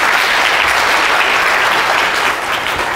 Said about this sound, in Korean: 지금까지 발표 진행해주신 분들께 큰 박수 부탁드립니다.